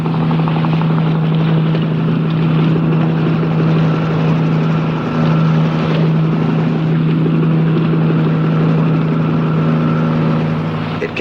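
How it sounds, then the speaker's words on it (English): A Coast Guard helicopter approaching over the sea, a steady loud engine and rotor drone with a strong low hum, continuous for the whole stretch with wind noise and no talk. "The Coast Guard hadn't forgotten us. A helicopter was approaching."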